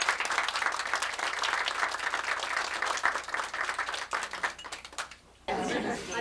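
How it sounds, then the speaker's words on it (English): A small group at a hospice widow and widower Christmas meeting claps steadily in a sustained round of applause, a voice cutting in briefly near the end before the clapping resumes. "she deserves a definite round of applause for all the work she does"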